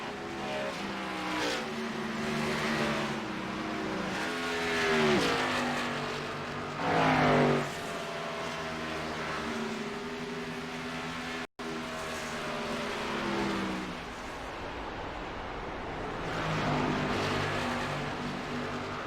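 Race cars roar past on a speedway, engines rising and fading in repeated passes, loud and close, one after another with a steady engine drone between them.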